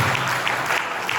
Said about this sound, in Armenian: եկեք նա Տիրոջը ծափարենք նորից